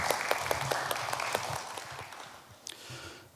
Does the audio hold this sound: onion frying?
no